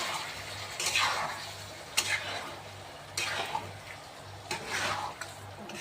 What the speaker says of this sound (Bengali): দইটা দিয়েও কিছুক্ষণ কষিয়ে নেব।